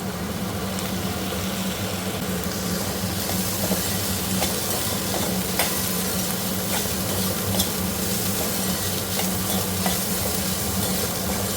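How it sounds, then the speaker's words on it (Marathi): Soaked chana dal frying with onion and curry leaves in a pan gives a steady, close sizzle, with occasional scrapes and clinks of stirring over it. "चणा डाळ थोडी फ्राय करून घेते।"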